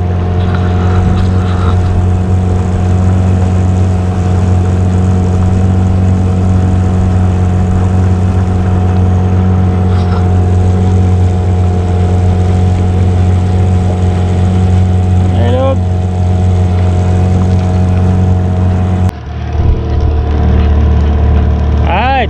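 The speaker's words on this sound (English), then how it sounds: "Sails are up, but we are still motoring because there's really no wind around." A sailboat with sails up runs under engine power in near windless conditions, its steady low idle-like drone and hum continuous throughout, shifting briefly near the end.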